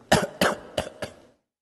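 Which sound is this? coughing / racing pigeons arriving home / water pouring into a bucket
coughing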